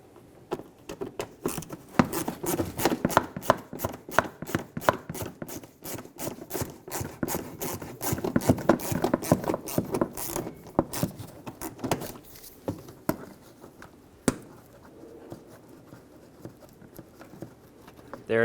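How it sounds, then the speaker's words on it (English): A screwdriver scrapes and rasps as it backs out a Phillips head screw from the front bumper cover of a 2013-2018 Hyundai Santa Fe, with dense, close rubbing and ticking that thins toward the end. "Stick a screwdriver in there and remove it."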